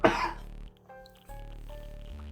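A single short throat-clearing cough up close, followed by quiet background game music with soft tones.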